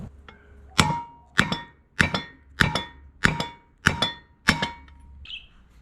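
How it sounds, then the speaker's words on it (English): A hammer strikes a socket extension to knock down a part during a coilover install on a 1970s Mitsubishi Sigma Lancer: seven sharp, ringing metallic clanks, evenly spaced and close by, each fading quickly before the next. "We're going to use a hammer to hit that to try and knock that down."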